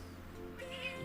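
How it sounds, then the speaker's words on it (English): A house cat that has just woken up lets out a short meow near the end, over a low steady hum of background music. "Cat woke up."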